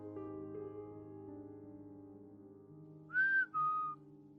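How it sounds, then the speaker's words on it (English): Two short, clear whistles sound close by, a rising tone followed by a steady one, over quiet background music. "I just heard a whistle."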